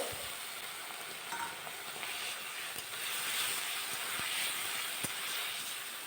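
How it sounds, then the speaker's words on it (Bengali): Spices and tomato pieces sizzle steadily in a pan after a little water is poured in for a raw paneer dish, a continuous close frying hiss with faint scrapes and ticks throughout, no voices. "এবার দিয়ে দেব অল্প জল, যাতে করে সমস্ত ইনগ্রিডিয়েন্টসগুলো একে অন্যের সাথে মিশে যায়।"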